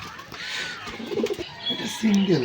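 Pigeons of several breeds, kept by a seller, give short soft coos close by, low burbling calls in brief bursts, while someone speaks over them.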